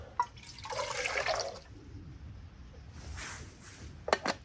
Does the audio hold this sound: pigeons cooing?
no